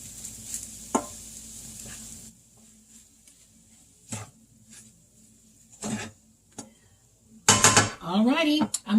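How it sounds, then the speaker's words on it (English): Filling for keto burritos gets stirred in a pot, with soft sizzling, a few sharp utensil scrapes and clanks against the pan in separate bursts, and a person speaking briefly near the end. "I can stir it around, and it should be ready."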